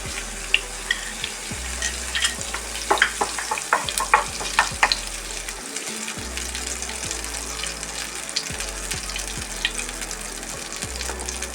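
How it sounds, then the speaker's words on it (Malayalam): Mustard seeds splutter in hot coconut oil, giving scattered sharp pops and crackles over a soft, continuous sizzle. The pops are close and irregular, and no one speaks. "കടുക് പൊട്ടട്ടെ."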